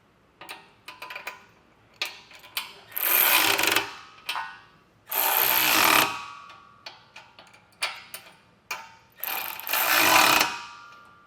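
Ratchet tightening the bracket bolts of Westin Outlaw running boards on a 2023 Toyota, heard as quick bursts of rapid clicking, three longer loud runs between shorter clustered ticks, close and alone without talk.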